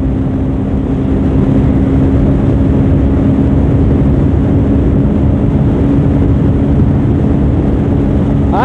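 Bajaj Pulsar N250 motorcycle riding at high speed on the Yamuna Expressway, a loud, steady engine drone with heavy wind rush throughout.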